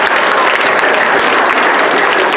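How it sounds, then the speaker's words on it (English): A crowd at an eighth-grade school winter orchestra concert claps loudly and steadily throughout, a dense, even wash of applause with no voices standing out. "let's give him a round of applause"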